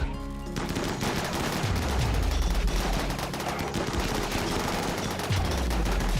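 Dense, loud automatic gunfire from colonists in the video game Rimworld, rapid overlapping bursts forming a constant barrage with deep booming impacts underneath.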